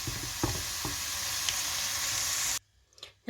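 Chunks of elephant foot yam fry in hot oil with a loud, steady sizzle, broken by a few scraping stirs, before the sizzling cuts off abruptly near the end into near silence.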